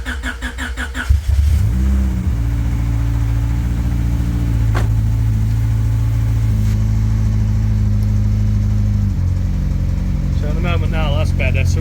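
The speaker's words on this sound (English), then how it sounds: "Just fire the car up and have a look." A Honda Civic EG9 with a Link G4+ engine management unit starts up in the cold, the starter cranking briefly before the engine catches and settles into a loud, steady idle heard close up, with a voice speaking briefly.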